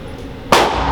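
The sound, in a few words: Glock pistol gunshots at a shooting range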